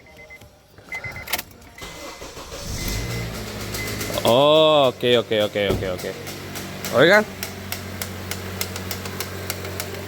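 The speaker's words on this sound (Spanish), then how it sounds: "Vamos a encenderlo para que podamos apreciar el sonido del carro." In a repair shop, a car engine with a noise that shows up only when cold is cranked and fires up, then settles into an idle with a few sharp revving whines, while people speak briefly.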